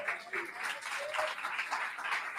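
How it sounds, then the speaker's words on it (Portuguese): Applause from a church congregation at a Sunday-evening family service, a steady wash of many hands clapping at moderate distance, fairly soft and continuous without talk. "Dê um aplauso a Jesus."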